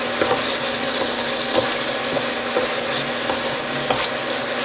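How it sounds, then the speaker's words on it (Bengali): Potatoes fry in a spice masala, giving a steady, close sizzle broken by regular scraping strokes as they are stirred and turned in the pan. "এবার আলুটা ওই মশলাতে দিয়ে দেব, তারপরে একটু কষিয়ে নেব আলুর সাথে মশলাটাকে।"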